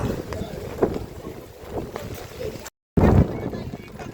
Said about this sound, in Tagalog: Dahil sa sobrang lakas ng hangin, hindi na kami makadiretso